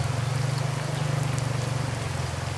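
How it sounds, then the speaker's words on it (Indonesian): Dense, steady rain patters loudly and continuously over a strong low droning hum. "Itu hujan gede."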